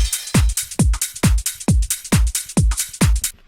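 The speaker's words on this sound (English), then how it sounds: "Let's hear now what this sounds like together with all the other drums." A speed garage drum pattern with a reversed sample plays a loud, driving loop of punchy kicks, about two per second, each trailed by swelling, washing hits, with no voices.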